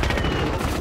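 Gunfire crackles in a video game, a sniper firing from a church tower, with rapid dense bursts filling the whole short stretch at steady loudness and no talk over it.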